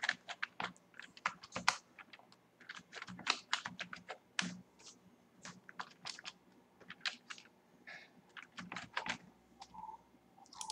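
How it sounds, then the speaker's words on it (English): Rapid, uneven clicking of a computer keyboard as a password is entered during a Red Hat Enterprise Linux 7 installation, close and clear, with keystrokes arriving in quick bursts and short pauses and no talking. "Type here the password."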